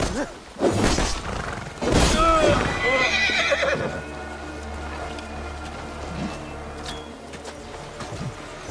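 Horses neigh and whinny in an Assassin's Creed Valhalla battle, with hooves clip-clopping and thuds and crashes around them, loud and busy, while voices shout over the action.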